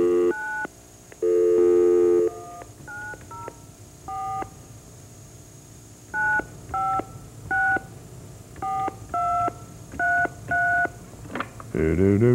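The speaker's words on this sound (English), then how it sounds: "We're dialing your number." Telephone keypad DTMF tones ring out during a radio call-in show as a number is dialed, a quick uneven series of short, loud beeps with pauses between digit groups, ending in a brief low rumble.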